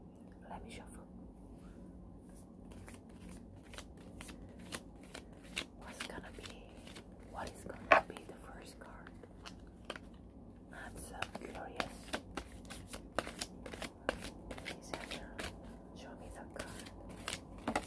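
An angel oracle card deck is shuffled in a quiet, close setting, with soft repeated riffling and crisp card flicks, including one sharper snap, over faint ambient hiss.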